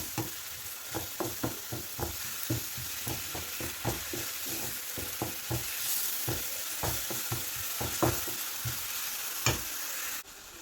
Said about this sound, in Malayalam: പിന്നീട് അരച്ച് വെച്ച മുളകും ഉള്ളിയുമൊക്കെ തക്കാളിയുമൊക്കെ ചേർത്ത് വെച്ച അതിൻ്റെ പേസ്റ്റ് നമുക്ക് ഇതിലേക്ക് ഒഴിച്ച് കൊടുക്കാം.